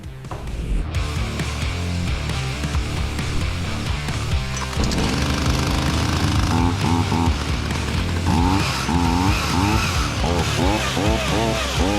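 A Ryobi Power XT RCS 3840T gasoline chainsaw engine runs loud and close, a steady buzzing drone that revs up and down repeatedly in rising and falling surges.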